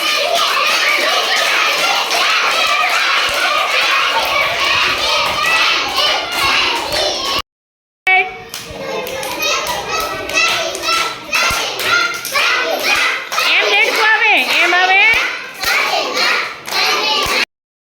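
Children playing a frog race game outdoors, a group clapping in a steady, rapid rhythm amid excited children's voices and chatter, broken by a brief silence and then more clapping and shouting.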